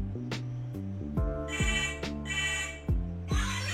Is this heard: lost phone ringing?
yes